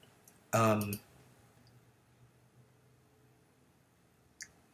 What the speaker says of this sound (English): So let me click this link real quick.